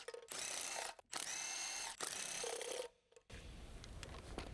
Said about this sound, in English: Using the large 18mm deep socket, short extension bar, with large electric impact wrench to remove the lug nuts